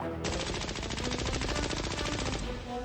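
Rapid automatic gunfire in the video game Poppy Playtime Chapter 3, a loud, dense burst of machine-gun shots sustained for about two seconds before cutting off, with no talking over it.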